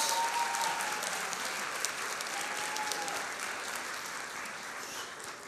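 A school-day audience gives dense, steady applause that fills the hall from start to finish, loud and unbroken, slowly easing only slightly toward the end.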